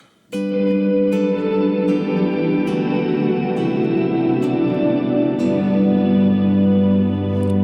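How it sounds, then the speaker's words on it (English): A sustained electric guitar chord rings out, washed in heavy reverb and delay, with a few picked notes adding to a long, shimmering ambient tail. "the main element to the sound is the big reverb"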